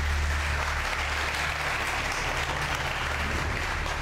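Studio audience applause during a pantomime game show, dense, loud and continuous clapping held steady throughout without letting up.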